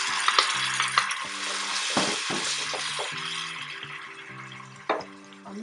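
Onions and tomato sizzle steadily in a pan, the frying hiss broken by several scraping stirs, close and loud with no talk, while a faint low tune plays underneath.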